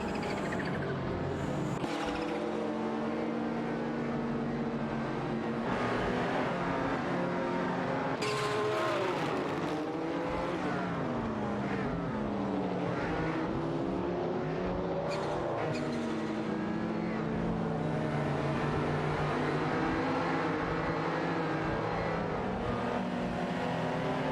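Race cars, including a Ferrari 512 TR and a Porsche 959, competing in a video game race, engines revving and sweeping through gear changes continuously, with cars passing and occasional tire squeal, loud and unbroken throughout.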